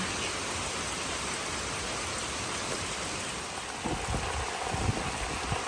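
Rain falls on a rice paddy in rural Laos, a dense, even hiss that stays close and steady throughout, with a few heavier drips and patters near the end.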